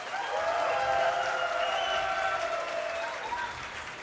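At an esports event, a crowd claps and applauds, a steady spread of many hands heard at a moderate distance under a faint tonal background hum, with no clear voices.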